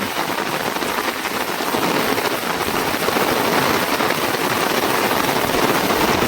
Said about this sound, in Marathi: आणि नेमका मासे लागायला लागले आणि पावसाने सुरुवात केली